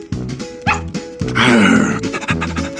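A dog barks and yips in short, close, loud bursts, about four in quick succession, with a whimpering whine between them, heard alone in a children's gingerbread fairy tale bedtime story.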